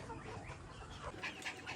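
Chickens cluck and squawk briefly on a farm as they jump out through a gap, faint and somewhat distant, mixed with light background noise.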